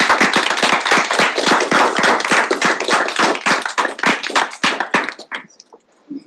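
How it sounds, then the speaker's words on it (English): At a student senate award ceremony, a modest group claps with distinct, individually audible hand claps in a quick, uneven rhythm, close and crisp, thinning out toward the end and leaving a brief quiet tail. "Big round of applause, everyone."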